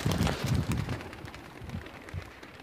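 Racing pigeons released from a box at a competition flight, a burst of loud wing flapping at the start that thins into scattered flutters as the birds lift away.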